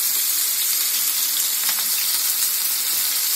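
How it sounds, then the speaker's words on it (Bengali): Potatoes spluttering and hissing as they fry in hot oil with some water, a steady dense sizzle near and loud throughout, with a few sharper pops partway through; no talking. "প্রথমে আমি আলুগুলো একটু ভেজে নেব, জল আছে তাই ছিটকাচ্ছে।"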